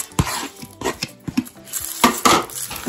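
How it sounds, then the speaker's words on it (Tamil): A spoon scrapes and clinks against a pan as sautéed onion and curry leaves are mixed for chicken chukka, giving quick, close, irregular metallic knocks and stirring scrapes. "இப்போ வதக்கி வச்ச ஆனியன் பிளஸ் ஒரு கொஞ்சம் கருவேப்பிலை இது எல்லாத்தையும் இப்ப மிக்ஸ் பண்ண போறேன்."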